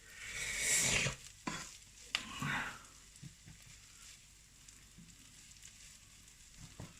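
Rice for beef lok lak is stirred and fried in a pan, with a loud scraping stir at first, then a steady quieter sizzle and occasional utensil scrapes.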